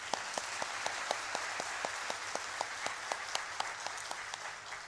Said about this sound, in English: Could you please give a big applause?